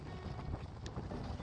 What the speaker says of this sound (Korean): 바람 너무 많이 분다.